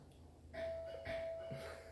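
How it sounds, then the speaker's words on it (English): A doorbell chiming faintly in the background of a home office, two soft tones ringing in succession, distant and muffled. "You might hear my doorbell in the background there."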